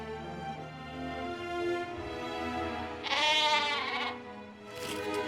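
A rabbit sheep bleats in the fantasy adventure game The Book of Unwritten Tales 2. Its wavering, tonal cries come over a soft music bed, with a louder, brighter bleat in the middle and a short one near the end.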